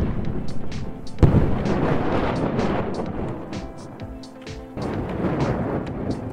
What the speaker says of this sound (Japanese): 爆弾だけでも大変なのに、それが死んだらですよ、もう雷で大爆発すると。